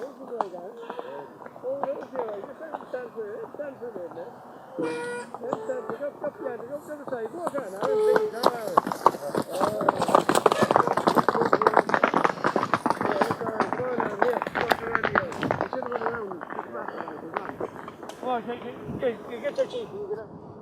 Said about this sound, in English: They're just moseying along, these horses.